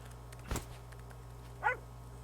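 Cartoonish dog barks from a video game, a single sharp bark near the start and a higher yipping bark about a second later, both brief and moderately loud over a steady low background hum.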